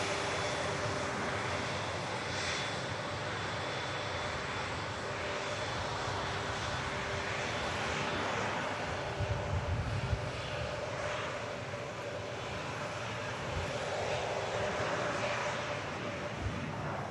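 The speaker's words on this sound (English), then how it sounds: "VistaJet lined up. And already on the roll." A VistaJet business jet rolls down the Manchester Airport runway on its takeoff run, its engines producing a broad, steady roar with a faint whine, heard from a distance and alone.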